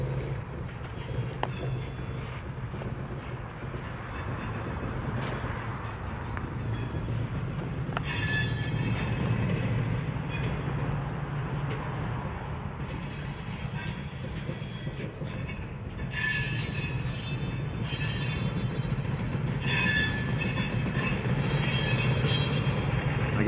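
A Norfolk Southern freight train hauling boxcars and Trashtainers rolls past nearby, a steady low rumble of wheels on rail with intermittent metallic squeals and clanks from the cars throughout.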